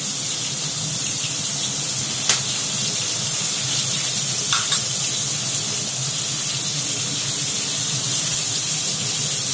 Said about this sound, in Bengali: পটলটা হালকা করে ভেজে নিচ্ছে